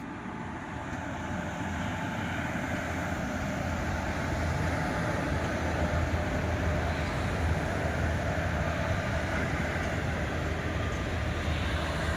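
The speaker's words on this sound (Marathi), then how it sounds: "तीन नंबरच्या प्लॅटफॉर्मवर नोंद पण एक गाडी चाललेली आहे ती लोडचीच आहे कंटेनर वगैरे आहेत" A loaded freight container train rolls through platform three of Kurduwadi bypass railway station, a steady, continuous low rumble and rattle of wagons at a moderate distance, with no talking.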